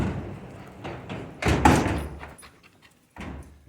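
Large sliding doors on an agricultural building roll along their track in a few rumbling pushes with a heavy thud partway through, then a brief renewed roll, close by.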